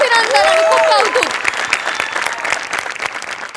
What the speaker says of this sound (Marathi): सगळ्यात आधी hair makeup art department costume department सगळ्यांसाठी टाळ्या